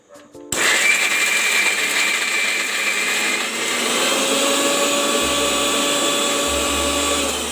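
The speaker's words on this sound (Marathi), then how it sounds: "आता जरा आपण मिक्सरला लावून घेणार" A mixer grinder whirs loudly and steadily, blending roasted brinjal for baingan bharta after a brief start-up, with a low rumbling motor hum joining near the end.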